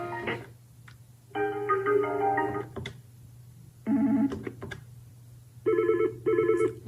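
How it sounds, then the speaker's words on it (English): A Yealink T46 desk phone plays ringtone samples: several short bursts of bright electronic ringing tones, each followed by a brief gap and a few clicks from the phone's keys, close and clear over a low hum. "You can then scroll through the list and pause on a ringtone"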